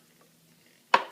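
Soft cooked apples scooped into a Ninja blender: near silence, then one sharp, close clunk with a brief clattering tail near the end.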